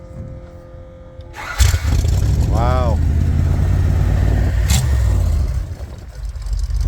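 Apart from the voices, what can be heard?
vintage snowmobile engine starting and idling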